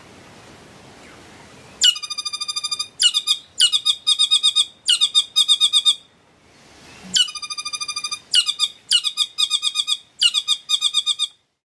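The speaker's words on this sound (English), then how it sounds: "They make a lot of chatter, having a call that is reminiscent of a laugh" New Zealand saddleback birds give loud, rapid chattering calls in two bursts of repeated staccato notes with a laugh-like rhythm, close and clear against a quiet background with a pause between the bursts.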